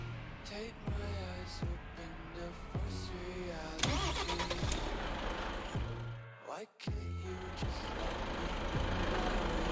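Renault T High truck engine in the Truckers MP driving game near Dover, a steady mid-pitched diesel drone running through the whole stretch, with a brief dip and surge partway through as the truck moves off.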